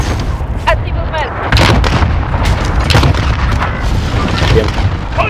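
Artillery fire mission called down in Call of Duty: Modern Warfare, a run of heavy booming impacts and rumbling blasts rolling on continuously over the whole stretch, loud and dense, with faint radio chatter underneath.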